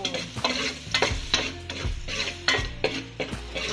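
Garlic sautéing in a pan for a Filipino-style spaghetti, stirred steadily with a utensil: a constant sizzle and fry with repeated scraping strokes at an even rhythm, close and fairly loud, with no talking.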